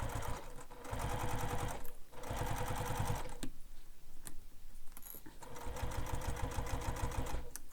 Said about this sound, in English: And now I'm going to top stitch along this edge